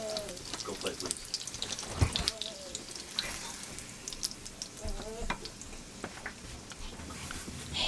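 Cherry chimichangas fry in vegetable oil with a steady crackling sizzle, close by, while a voice talks now and then over it and pan clatter appears.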